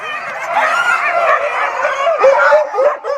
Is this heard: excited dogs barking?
yes